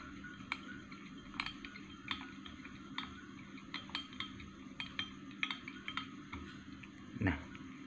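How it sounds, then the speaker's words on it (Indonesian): Ginseng pills and sugar are stirred into an energy drink, making a steady run of light clinks and ticks as a spoon taps the glass, with a brief louder scrape near the end and no talk. "pil ginseng 3 butir ini sudah saya kasih gula tadi kita aduk sampai rata"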